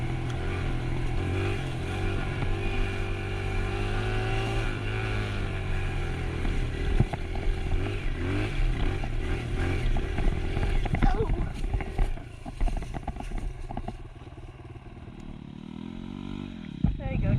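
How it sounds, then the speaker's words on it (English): A dirt bike engine revs with the throttle held open on a single-track mountain trail, a steady sustained drone that roughens and drops off near the end, with people talking over it. "I'm just going to keep the throttle going. Keep the throttle twisting"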